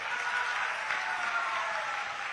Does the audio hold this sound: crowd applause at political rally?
yes